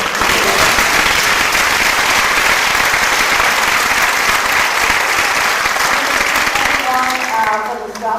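Audience applause at the Miss & Little Miss Strassenfest Pageant: a loud, sustained round of clapping from a large crowd fills about eight seconds, then tapers off at the end as voices return.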